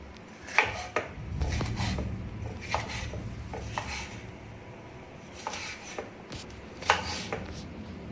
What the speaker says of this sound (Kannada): ಈ ಥರ ಕಟ್ ಮಾಡಿ ಇಟ್ಕೋಬೇಕು ಕ್ಯಾಪ್ಸಿಕಮ್ಮನ್ನು.